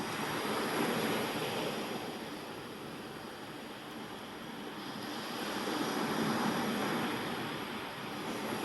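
Ocean waves wash onto an empty beach in the early morning, a broad, steady surf roar that swells and ebbs gently over several seconds, with some wind rumble and no voices.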